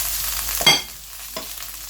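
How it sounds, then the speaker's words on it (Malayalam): Egg and vegetables being stir-fried over a high flame for restaurant-style egg fried rice, with a steady sizzle and two brief louder scrapes of stirring in a pan. "ഹൈ ഫ്ലെയിമിൽ തന്നെ നന്നായി മിക്സ് ചെയ്തെടുക്കാം"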